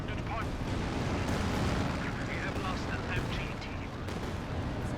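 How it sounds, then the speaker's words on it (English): Rocket and artillery barrages, including Katyusha fire, pound an area in a strategy game, a dense rumbling wash of distant booms and crackling blasts. Commentators talk over it at a moderate level. "A lot of artillery fire from Mattress and Katusha hitting the entire area, saturating it with tons of artillery fire"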